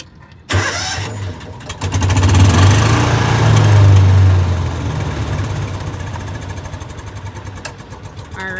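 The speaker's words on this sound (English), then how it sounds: "turn the ignition, pull the choke, press the little gas, push the choke back in, and continue to rev the gas" A Gator utility vehicle's cold engine cranks and catches, then is revved with the choke pulled, the roar swelling for a few seconds before easing to a steady, rough idle nearby with no one talking.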